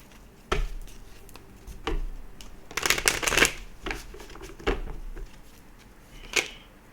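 Tarot cards are shuffled and drawn for a reading, heard as close riffling bursts and soft slaps of card on card, with one longer flurry in the middle.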